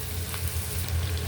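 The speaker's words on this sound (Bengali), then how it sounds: "পেঁয়াজ কাঁচামরিচটা ভাজা হয়ে গেছে" Onion and green chillies sizzle steadily in hot oil in a home kitchen, a dense, even frying hiss that runs close and alone through the short moment.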